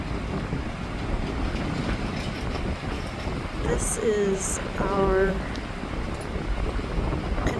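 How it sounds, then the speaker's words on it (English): Strong wind roars steadily across an open outdoor spot near a controlled burn in Uwharrie National Forest, a dense rumbling gust noise that fills the whole stretch while a person speaks briefly and a couple of faint higher tones rise through it. "do you see how windy it is?"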